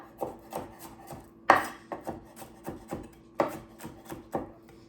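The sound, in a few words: knife mincing fresh garlic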